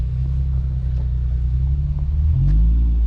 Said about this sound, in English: Hey, give us a rev.